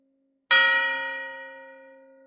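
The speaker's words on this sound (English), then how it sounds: "It was a single hard toll, the pack signal for a hostile approach at the boundary" A warning bell strikes one hard toll, a sharp metallic onset followed by a long, ringing decay that fades slowly without a second strike.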